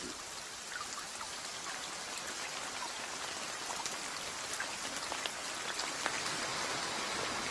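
Rain falls steadily on open grassland where wildebeest herds graze, a dense continuous patter of raindrops with occasional nearer drips.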